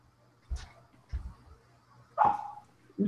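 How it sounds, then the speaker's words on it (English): A dog barks a few times, separate sharp yaps spaced out over a few seconds, somewhat distant in a quiet room. "Great, the dog's barking now."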